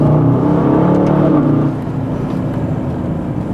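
An Aston Martin DBX 707 SUV accelerates hard through a turn, its engine roaring loud and close before the note drops and settles into a steadier drone, with no talking.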